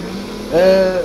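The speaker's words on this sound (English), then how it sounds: "at least this truck sounds good" A truck engine in the video game MudRunner American Wild drones at a steady idle, then revs up halfway through, rising into a louder, higher whine that holds before easing slightly.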